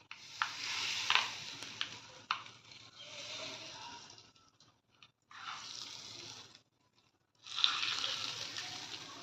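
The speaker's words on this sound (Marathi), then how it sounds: "आणि फोडणी अशी चटणीवर टाकते" Hot tempering poured over raw mango chutney gives bursts of crackling sizzle that stop and start across several seconds, loud and close, with no voices.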